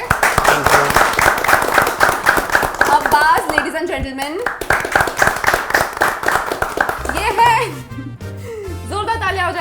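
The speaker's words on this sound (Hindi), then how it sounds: "जोरदार तालियां हो जाए" An audience claps for the cast of UP65 at a stage introduction, steady close applause running throughout under a host's amplified voice and some music.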